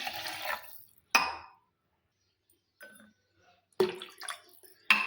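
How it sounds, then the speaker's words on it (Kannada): About two half-glasses of water are poured into a cooking pot while making Sankranti huggi payasa, heard as several short splashing bursts separated by near silence. "ಈಗ ನೋಡ್ರಿ ನೀರು ಹಾಕ್ತೇನೆ ರೀ"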